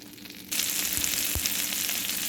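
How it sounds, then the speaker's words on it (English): Butter hits a hot pan and bursts into a loud, bright sizzle after a short quiet moment, then holds steady and close. Two soft thuds of a utensil against the pan sound under it. "So now we have to add some butter in the same pan."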